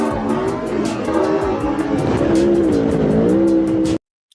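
A car swerves into a motorcyclist on the road, with loud, continuous engine roar and rising tire squeal building over about four seconds before cutting off abruptly.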